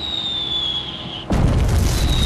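A bomb blast in the flight combat game Wings Remastered, a single sudden deep boom that cuts in over a steady engine whine and rumbles on loudly to the end.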